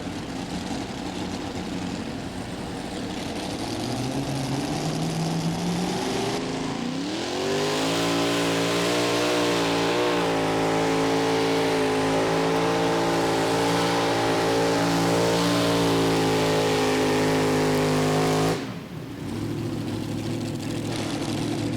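A mini rod pulling tractor engine roars and revs up loudly at a tractor pull, holding a steady, droning pitch for several seconds before abruptly cutting back.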